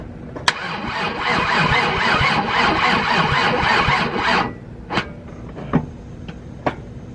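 A VW Jetta VR6 engine cranks in one long burst of rapid, rhythmic starter churning lasting about four seconds, loud and close, then cuts off and leaves a few sharp clicks without starting.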